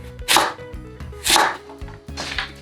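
A knife slicing radish on a cutting board for water kimchi, three crisp slicing strokes spaced about a second apart with lighter taps between them, close and clear with no talking.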